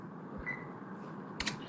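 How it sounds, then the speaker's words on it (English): Short bright electronic beeps from a stove control panel as its buttons are pressed, a faint chirp early then a sharper double beep near the end over quiet room hum. "You hear the stove beep."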